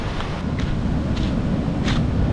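A constant, loud wash of wind rushes across the microphone with no pauses, broad and noisy throughout.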